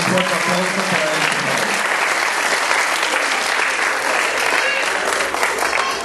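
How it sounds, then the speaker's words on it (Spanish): An audience at a town inauguration event in Mexico gives dense, sustained applause, loud and steady throughout, with faint crowd murmur underneath. "Un fuerte aplauso para él."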